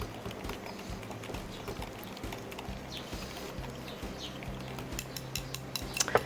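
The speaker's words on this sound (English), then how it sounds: "Now we're gonna mix up our sauce." Korean spicy noodle sauce with sesame oil being mixed by hand, giving close, steady clinks and scrapes of a spoon against a bowl that grow quicker and sharper toward the end.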